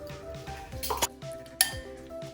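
A utensil clinks and scrapes against a bowl while an egg and natural yogurt are mixed for a fried chicken marinade, giving a few sharp rings between softer stirring sounds.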